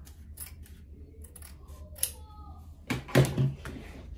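Scissors cutting black lace fabric for a wedding dress, faint snips scattered at first and then a louder, closer burst of cutting near the end, with quiet background noise.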